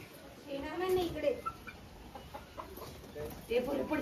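Chickens cluck softly and intermittently along the Panhala to Pavankhind trekking route, the calls faint and partly buried under nearby voices and outdoor background noise.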